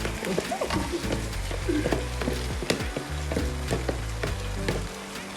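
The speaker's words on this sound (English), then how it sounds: "I'm gonna add my pork in there" Fried pork added to a hot pan for stir-fry pasta sizzles steadily and loudly, with scattered clinks and scrapes of stirring throughout.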